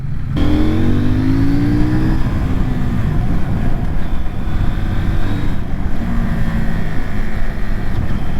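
A CF Moto NK800 motorcycle engine revs hard and close, its pitch sweeping upward as the quickshifter snaps through gears, with steady roaring drone and wind rush throughout.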